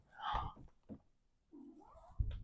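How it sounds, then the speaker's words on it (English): A flame point cat meows several times, with short vocal cries close to the microphone, separated by brief pauses, at moderate loudness. "it's the flame point kitty"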